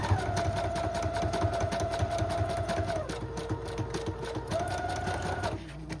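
A sewing machine runs steadily, stitching a decorative swirly stitch around the edge of a paper file folder. It hums with a constant motor whine for several seconds, briefly changes pitch, resumes, then winds down near the end.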